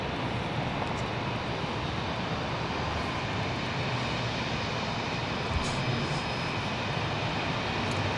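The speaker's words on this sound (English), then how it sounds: "There's a Bonanza A36 TC departing there." A Beechcraft Bonanza A36 TC departs from San Jose International Airport, its steady engine drone heard at a distance under broad airport noise.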